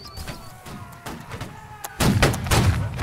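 Rapid, dense gunfire from a squad in a video game, volleys of sharp cracks and thuds building into a louder barrage near the end.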